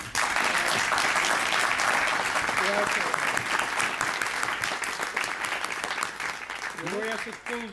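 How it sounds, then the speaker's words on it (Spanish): Audience applause at a book launch for a biography of Cuban president Carlos Prío Socarrás, a dense, sustained round of clapping that carries on under brief moments of a voice and tapers toward the end. "Yo pido un aplauso para Eloy Cepero."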